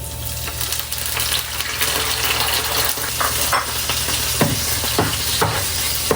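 Shrimp paste (alamang) dropped into a hot pan with chili, sizzling loudly and steadily while a utensil stirs and scrapes, close up with a constant frying hiss.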